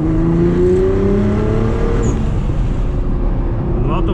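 A 730 hp Nissan GT-R R35 roars hard while accelerating, its loud engine note climbing steadily in pitch, then easing off as the revs shift, heard from inside or close to the car.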